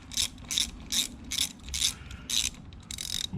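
Ratchet wrench loosening 10mm bolts on an XR650L motorcycle's front sprocket: seven quick bursts of sharp clicking in an even rhythm, close and clear, with no talk.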